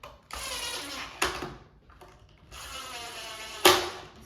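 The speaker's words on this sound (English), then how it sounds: "I'm using a little drill driver right here." Bursts of a small drill driver driving screws into a wooden shoe cubby bench, whirring in short runs, with sharp clicks and clunks between them, close by and fairly loud.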